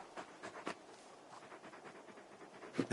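Torgal, a big dog in the video game Final Fantasy XVI, pants in quick soft breaths close by, faint and rhythmic, with a louder huff at the end.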